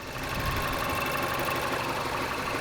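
A 2.3-liter four-cylinder turbo car engine runs steadily at idle, a continuous mid-toned rumble with a faint rhythmic knock, no voices.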